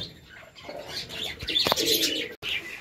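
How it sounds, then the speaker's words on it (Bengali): Pigeons just let out of their loft coo and chirp close by, with soft repeated coos, brief tweets and a quick flutter of wings. "আমি সকালবেলা এসে সব কবুতরদের বাইরে বের করে দিয়েছি"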